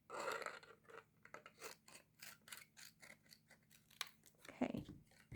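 Scissors trimming a paper card flap for a craft treat holder: a run of quiet, crisp snipping and rustling cuts, close and soft, with faint background noise.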